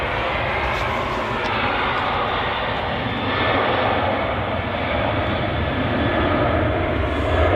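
A steady, loud roar from the jet engines of an Airbus A380 backtracking along the runway at Manchester Airport, a continuous broad rumble that holds near-constant in level throughout, with no voices.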